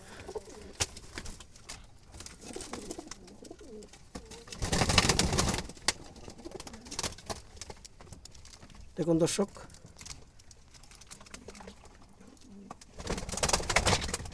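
Jalali pigeons coo in low, intermittent murmurs among scattered noises, with someone speaking over them at times.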